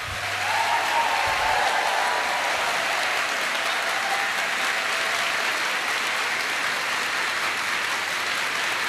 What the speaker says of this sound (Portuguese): O nosso aplauso a você,